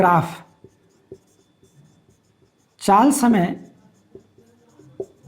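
Writing on a board during a physics lesson produces a series of short, sharp taps and scratches that come in sparse bursts between a teacher's spoken explanation.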